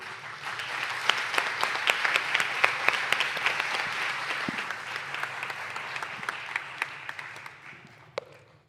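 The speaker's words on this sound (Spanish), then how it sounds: "por eso te damos este aplauso a ti" During a Mother's Day church service, a congregation applauds a mother with sustained, fairly even clapping, individual sharp claps standing out over the wash, before it tapers off near the end.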